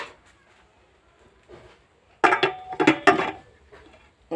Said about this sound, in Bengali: তারপরে আমি ঢাকনা দিয়ে এখন ঢেকে দিব।